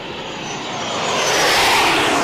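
A formation of airshow planes flies past at the Pacific Airshow in Huntington Beach, California, giving a broad engine roar that swells and grows louder as the aircraft near.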